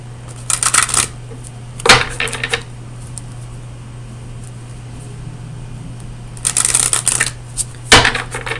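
Oracle cards from the Oracle of Visions deck being shuffled in several loud, close bursts of riffling and snapping, separated by quiet pauses with a steady low hum in the background.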